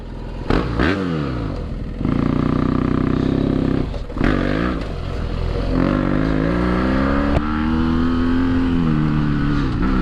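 A 2013 BMW F800GS adventure motorcycle on off-road tires pulls away up close, its engine rising and falling through several revving gear pulls, loud and continuous with some clatter early on.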